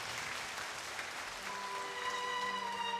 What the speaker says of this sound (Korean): 우리 주님께 감사와 영광의 박수 돌리겠습니다.